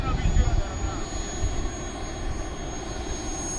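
An FMS 1700mm Corsair V3 RC model warbird does a touch and go in a light crosswind, its motor a continuous whine under wind noise and nearby outdoor rumble.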